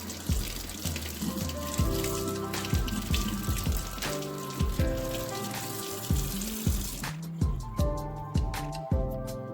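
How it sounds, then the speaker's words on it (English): Tap water runs over an aloe vera leaf being rinsed after its sticker is removed, a steady near splashing with uneven drips and spatters throughout, no talking. "let's just take time to rinse it"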